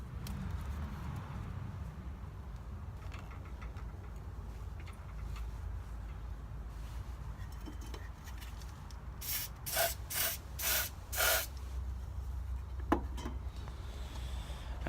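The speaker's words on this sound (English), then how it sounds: "just spraying and cleaning the terminals" Cleaner is sprayed onto the terminals in the engine bay of a Renault Sport Clio 200 in a few short hissing bursts near the end, after a long stretch of quiet rubbing and workshop ambience.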